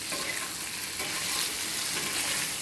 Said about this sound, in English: But you brown that just to get color.